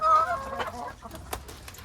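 Backyard garden chickens cluck in short, close bursts, a few soft, throaty calls scattered over quiet outdoor background.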